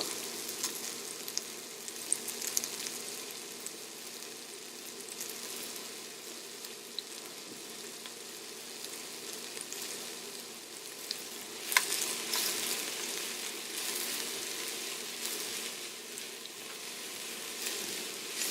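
Onion and garlic sauté gently in olive oil over low heat, a soft, steady sizzle that runs on with occasional light stirring clicks, growing a little brighter later on.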